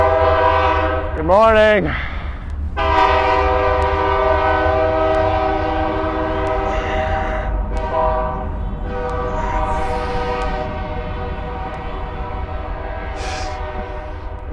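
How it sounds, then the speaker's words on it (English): A passing train blasts a long tonal horn several times near a fitness studio, the loud sustained blares rising and falling over a steady rumble. A person speaks briefly in the room. "There's a train coming if you didn't notice"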